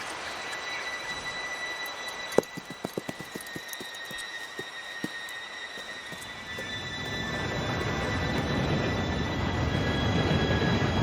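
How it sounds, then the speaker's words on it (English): Train arriving in the video game Red Dead Redemption 2: a string of metallic wheel clanks over rail joints, then a swelling rumble of the approaching cars that grows louder and fills the scene. "Train should be here any minute now."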